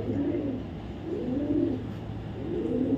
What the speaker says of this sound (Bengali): একটা নর কবুতর